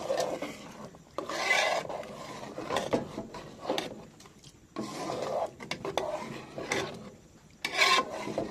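A spoon rasps and scrapes around a pot of payesh, rice cooked in milk, in repeated bursts of stirring with short pauses between strokes, close and fairly loud.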